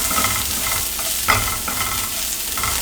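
Garlic fries in a pan with a steady, bright sizzle, broken by several short scraping stirs and spatula knocks, close and alone with no talking.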